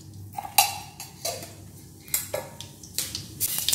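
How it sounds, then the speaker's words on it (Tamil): Mustard seeds splutter and pop in hot oil in a kadai, sharp crackling bursts coming in irregular clusters over a low steady hiss, close and fairly loud with no talking. "கடுகு பொரிஞ்சிருச்சுங்க"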